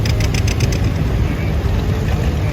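Tractor with a Hercules engine and American Bosch pump idles steadily at an annual antique tractor show parade, a low continuous rumble with no talk over it.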